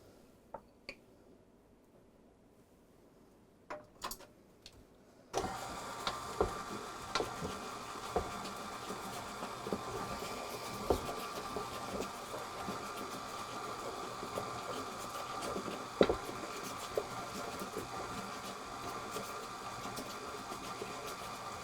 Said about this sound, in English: Make sure you mix it, all of it together.